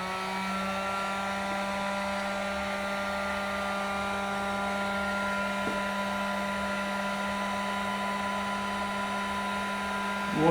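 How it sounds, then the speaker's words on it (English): A heat gun runs to warm a vinyl fishing lure skirt, producing a steady electric blower whine and airy hum that holds constant and close for the full stretch, with a brief bump toward the end. "fire up the heat gun."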